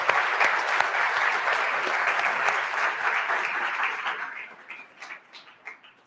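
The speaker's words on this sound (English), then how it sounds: "Let's give them all a round of applause." An audience applauds new lifetime members at a nonprofit's annual gathering, a steady, dense round of clapping that holds for about four seconds, then thins into scattered claps and dies away.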